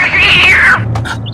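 A single close, loud cat meow rises and falls over about a second, followed by faint background noise.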